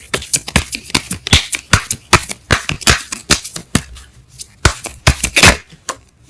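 Tarot cards being shuffled by hand: a rapid, uneven run of crisp riffling flicks and slaps, close and fairly loud, with no talking.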